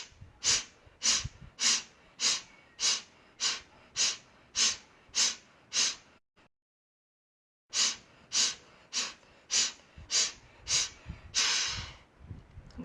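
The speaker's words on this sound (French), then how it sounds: "on inspire, on expire" Children doing rapid rhythmic breathing in a yoga exercise: about a dozen forceful, evenly spaced breaths, a short pause of silence, then another run of the same sharp puffing breaths, close and loud.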